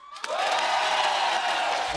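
A dance-show audience bursts into loud applause with cheers and whoops as three judges are invited onto the stage, the roar starting suddenly and holding steady.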